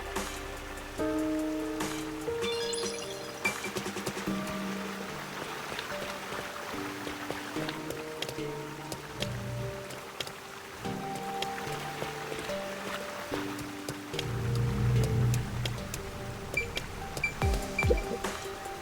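Rain falls in the video game Rain Code, a soft continuous patter running under a melodic game music track, with a heavier downpour swell near the end.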